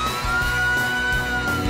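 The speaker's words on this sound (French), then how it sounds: "Ça ressemble à une sirène de pompiers." A fire truck siren from the Blaze and the Monster Machines cartoon, a loud, steady wailing tone with a low engine rumble beneath, no talking.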